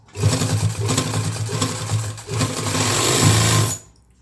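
Sewing machine stitching a zip onto a school coat, a loud continuous motor whir with a rapid needle rhythm, a short pause midway, then a final run that stops.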